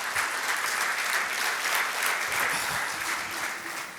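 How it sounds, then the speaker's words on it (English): A crowd at a leadership talk gives a guest a warm, sustained round of applause, with even, continuous clapping from many people and no pause. "If we could please get a very, very warm round of applause for Seamus."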